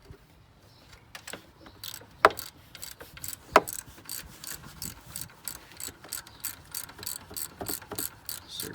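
A 15mm ratchet tightens alternator bolts on a GSC 8.1L engine, with a faint, rapid run of regular clicks after a couple of louder metallic knocks, close up and without talk.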